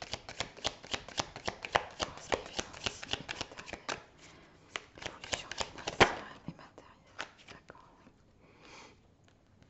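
Tarot deck being shuffled close up: a steady run of quick papery flicks and slaps, fast and dense at first, then thinning to scattered shuffles and a few soft taps near the end, no talk.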